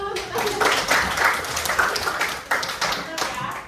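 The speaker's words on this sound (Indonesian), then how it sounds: "Tepuk tangan dulu." A classroom of students claps hands in quick, uneven bursts of sharp taps at close range, with voices heard alongside.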